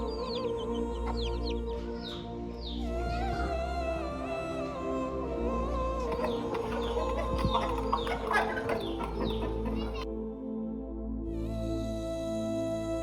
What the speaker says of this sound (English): Variety of cocks.